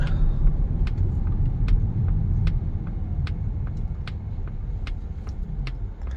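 A 2021 Polestar 2 electric car slows to a halt in one pedal drive, giving a steady low road rumble with faint periodic ticks and no engine note, heard from inside the cabin.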